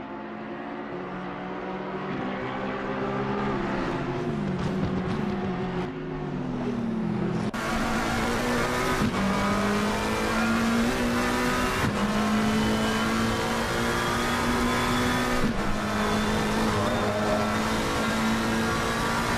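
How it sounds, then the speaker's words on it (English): McLaren race car climbing the hill at Bathurst in a racing simulator, its engine revving continuously and loudly with rising pitch sweeps and sharp drops at each gear change, no voices over it. "let's just have a little listen to this McLaren making its way up the hill here"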